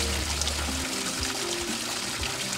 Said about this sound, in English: Another valve system then releases the water,